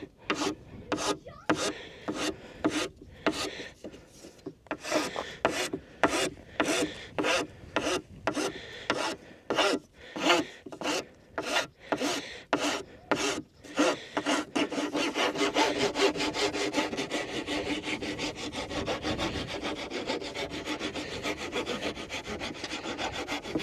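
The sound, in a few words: power tool working wood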